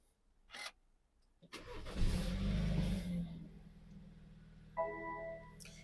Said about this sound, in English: Right, I'm going to start the car.